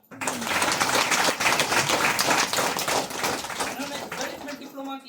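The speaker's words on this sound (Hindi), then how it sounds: "वेरी गुड भाई, मेरे ताली बजाओ।" A church congregation applauds, a dense continuous patter of many hands clapping together, loud and sustained before fading at the end.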